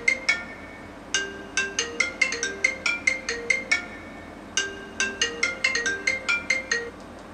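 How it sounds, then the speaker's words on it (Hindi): A mobile phone rings loudly with a repeating melodic electronic ringtone, set off by a homemade GSM-module home security system. Two bursts of rapid chiming notes are separated by a short gap, with no voices. "वो डिवाइस से हम लोगों के मोबाइल पे भी कॉलिंग आएगा"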